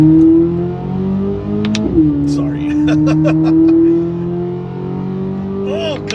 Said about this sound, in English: Oh God, every time I hear this car